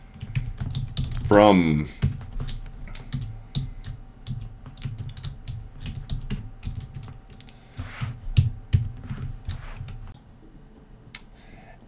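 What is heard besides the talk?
typing a SQL query on a computer keyboard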